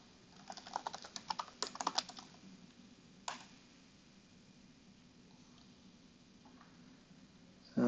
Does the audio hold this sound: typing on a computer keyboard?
yes